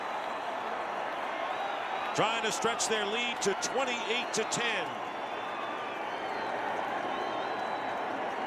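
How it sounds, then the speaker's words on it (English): A stadium crowd at a 2012 NFL game between the Buccaneers and the Broncos in Denver roars steadily after a Broncos interception return, a continuous wash of cheering beneath a commentator's voice. "this crowd is going wild as the Broncos"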